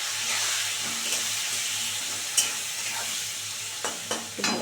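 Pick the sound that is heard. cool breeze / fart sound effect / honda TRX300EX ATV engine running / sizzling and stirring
sizzling and stirring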